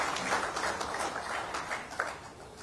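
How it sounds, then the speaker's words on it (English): Audience applause at a safety and health at work conference, soft and spread out, a hall of hands clapping steadily at a moderate distance. "We can give him an applause again"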